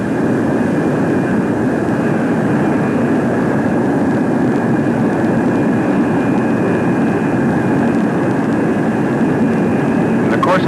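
USAF F-102 jet aircraft on a high-speed taxi run along the ground, a loud steady roaring jet engine rush that holds constant throughout, broad and close with no breaks.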